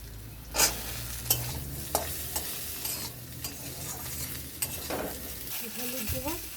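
Ridge gourd pieces fry in oil left over from fish frying, a continuous sizzle broken by regular scrapes of a spatula stirring the pan, close and moderately loud.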